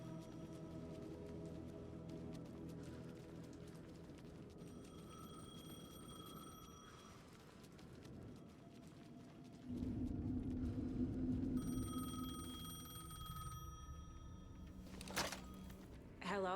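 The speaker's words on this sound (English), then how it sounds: "The payphone was ringing." A payphone rings in the video game Alan Wake 2: two spaced bursts of a high electronic ringing tone over a low ambient drone and rumble, with a soft thud near the end.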